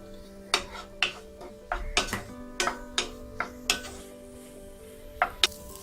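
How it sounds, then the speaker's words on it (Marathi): A spatula repeatedly scrapes and clinks against a pan while a tiffin dish sautés in oil with a pinch of salt over a high flame. Sharp strikes arrive every half second or so over a low, steady sizzle and hum, close and fairly quiet. "आता फास्ट गॅसवर ह्याला 2 मिनिटं परतून घ्यायचंय."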